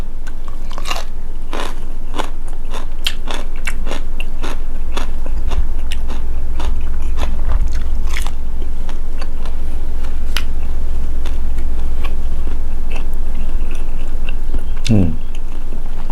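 Isan sausage eaten with pickled vegetables, heard as close, repeated crunchy bites and wet chewing over a steady low hum, with a brief vocal sound near the end.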